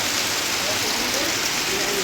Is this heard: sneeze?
no